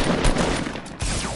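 Rapid gunfire in the battle royale game Fortnite, a short dense burst of overlapping shots, loud and close, with no talk over it.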